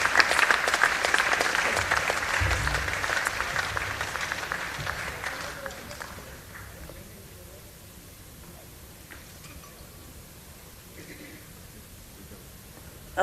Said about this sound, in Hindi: तालियां बजा के स्वागत कीजिए